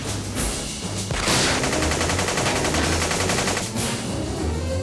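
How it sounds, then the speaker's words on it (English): Rapid gunfire bursts from a shootout in the 1992 action film Angel of Fury, dense and continuous with several sharper volleys standing out, loud throughout with no talk over it. "Do they always have to come out of the windows and shoot in unison?"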